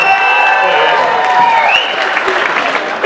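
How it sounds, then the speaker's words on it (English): A comedy show audience applauds, a dense wash of clapping and a few cheers that swells briefly and then thins out as a voice starts talking over it. "If you broke, let me hear some applause."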